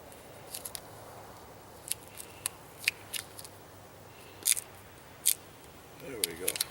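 Tape spiral-wrapped around the handle of a homemade PVC longbow, giving scattered short crackling pulls and peels at close range over a quiet background, more frequent toward the end.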